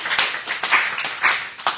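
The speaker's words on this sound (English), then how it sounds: "applause." Applause for speakers Les and Pat at a church talk: sparse claps from a small group with a few sharper individual hits, fairly close.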